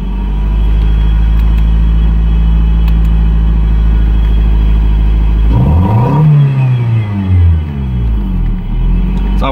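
A 1990s-era Toyota MR2 bought for $500 idles with a loud, steady drone, its timing belt of unknown age. About halfway through, the engine is revved sharply up and falls back, then holds a higher, wavering note.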